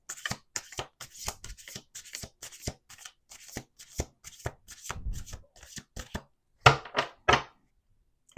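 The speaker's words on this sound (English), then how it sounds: "1 more shuffle" Playing cards are shuffled repeatedly during a tarot or oracle reading, a fast run of crisp riffling snaps and taps, close up, ending in two louder bursts.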